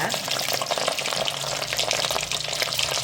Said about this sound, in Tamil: அதே எண்ணெயிலேயே இறாலை போடுவோம்